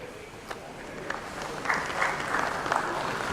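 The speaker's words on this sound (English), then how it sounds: "So a huge round of applause to Rajdeep Singh." Applause from a small audience at a cryptocurrency and blockchain talk, fairly faint and thin, swelling slightly halfway through as a few scattered claps join in.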